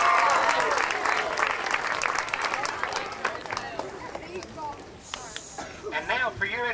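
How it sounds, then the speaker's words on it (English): Crowd applause at a Safe Routes to School walk event honoring high school athletes and students, a dense steady clapping that slowly thins out, with some cheering and voices near the end. "If you would, give them a big round of applause."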